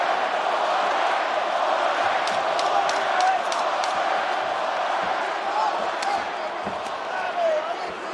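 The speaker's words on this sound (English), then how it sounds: "Pro Masvidal crowd voicing their support late in the round" A large arena fight crowd roars in support of Masvidal late in a round, a continuous loud wash of cheering with scattered sharp shouts and whoops, while commentary talk runs underneath.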